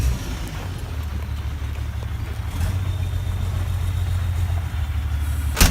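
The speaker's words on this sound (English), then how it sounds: "I heard a rumble of a diesel" A diesel truck engine rumbles steadily nearby, a deep low idle that swells slightly louder midway, with a brief sharp knock at the end.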